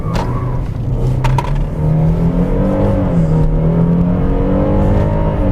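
A 2013 Hyundai Genesis sedan accelerates hard under power, its engine note rising steadily and loud from inside the cabin.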